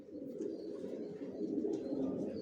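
Racer pigeons, top-quality young birds kept in a loft, coo and murmur in a steady low drone throughout, close by, with faint higher chirps drifting above.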